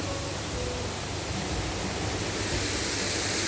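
A Thai waterfall at the end of a trail gives off a constant hissing rush of falling water, close and even, building slightly louder toward the end with no speech.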